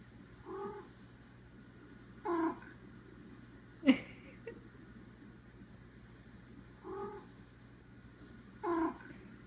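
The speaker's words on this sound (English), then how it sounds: "I've been playing this vine where a cat makes some noises" Cat noises played back from a short online video, a few separate meows and yowls spaced several seconds apart over a quiet room hum, with one sharper, louder cry near the middle.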